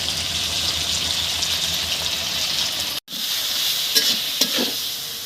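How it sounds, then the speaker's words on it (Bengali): Green bananas frying in a pan with onion, garlic, green chilli and cumin paste make a continuous close sizzle, briefly cut off, then resuming with a few stirring clatters. "আমার কলা কষানো হয়ে গেছে।"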